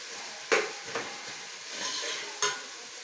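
Onion sautés and sizzles softly in a pan while being stirred for a mushroom biryani, with a faint continuous fry and three brief scraping clinks of the spoon, quiet and close.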